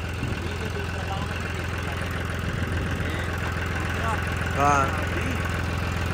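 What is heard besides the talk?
John Deere 5310 tractor engine running during performance check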